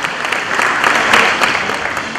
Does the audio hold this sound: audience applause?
yes